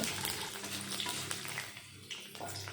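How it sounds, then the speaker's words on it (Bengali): Chillies, chana dal, mung dal and garlic frying in hot oil give a continuous close sizzle with occasional stirring scrapes throughout. "এখন সব কিছু ভালো মতন ভেজে নেব"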